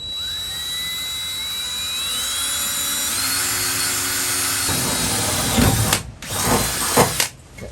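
A power drill drilling into a campervan floor whines at a rising pitch for several seconds, then stops and starts in short bursts near the end.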